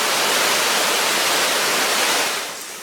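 Steady broadband rush of a creek flowing below a railway trestle on the E&N Railway near Cameron Lake, a continuous close hiss of water that eases slightly at the end.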